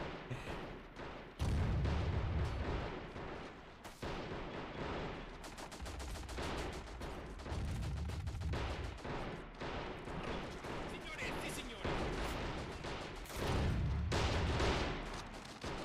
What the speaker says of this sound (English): Definitely going to try to strike it with artillery, of course.